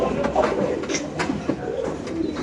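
Pigeons offered for sale coo softly and repeatedly amid a busy, noisy background of birds and ambient clatter.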